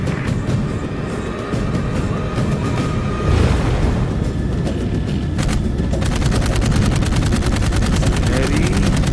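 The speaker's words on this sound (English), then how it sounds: "Use the guns on your pack." Rapid automatic gunfire from the mounted guns of a jetpack in the Dark Void video game, loud bursts that fill the whole stretch over rumbling explosions and game effects, growing denser and more continuous toward the end.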